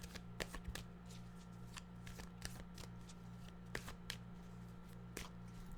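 Tarot cards being shuffled by hand, a series of soft riffling snaps and flutters at irregular intervals, close and quiet over a low steady hum, with no talk.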